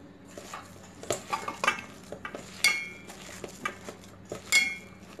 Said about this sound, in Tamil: இப்போ சேர்த்து நல்லா மிக்ஸ் பண்ணிடலாம்.